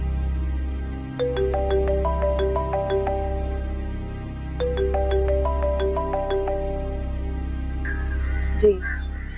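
A phone rings on an outgoing call. A repeating melodic ring pattern plays twice over a steady low hum, fairly loud and near, with no talking over it.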